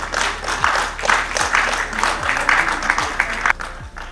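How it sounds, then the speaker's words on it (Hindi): Applause from an audience during a lamp-lighting ceremony at a Swami Vivekananda birth anniversary conference at Vigyan Bhawan: steady, dense clapping over a low rhythmic drum-like pulse repeating about once a second, with no voices. "एक बार फिर से जोरदार तालियों से आप दीप प्रज्वलन के समय आप गड़गड़ाहट तालियों की गूंज जाए"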